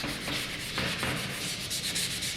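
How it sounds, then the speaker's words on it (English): Steady, close rasping of a fine sanding sponge rubbed back and forth over a metal exhaust part in quick continuous strokes. "I'm using fine sanding sponges and I'm going to sand this part so that my primer will stick."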